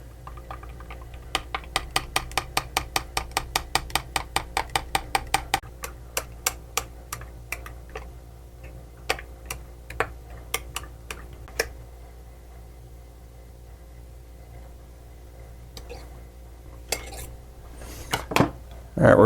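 A utensil stirs liquid soft plastic bait and colorant in a container, making a rapid, steady run of close clinks and taps that slows into scattered knocks, with a low hum underneath.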